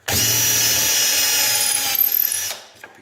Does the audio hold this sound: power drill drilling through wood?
yes